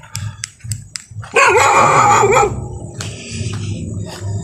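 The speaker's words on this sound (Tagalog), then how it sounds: "So aso po yan" A large dog barks loudly and repeatedly in a burst of deep, rough barks, followed by fainter barking and clicks in the background.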